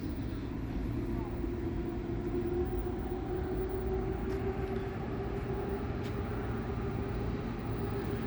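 Long distance train departing Tłuszcz station in Poland toward Białystok, a steady low rumble of rolling wagons with a faint sustained tone, continuous and moderately distant throughout.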